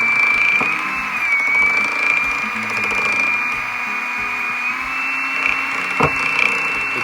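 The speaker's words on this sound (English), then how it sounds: "You start with kind of a low speed. Like in the mixer, like making a birthday cake" Electric mixer whirring steadily at low speed as it blends Odies oil, a constant motor drone with a faint pitch wobble and a couple of small knocks, loud and close with no speech.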